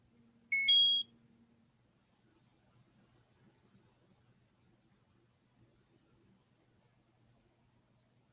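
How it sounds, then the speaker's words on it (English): A phone alert sounds once as a short, sharp pair of electronic beeps near the start, then the room goes almost silent apart from faint low background noise. "My phone is just going crazy over here."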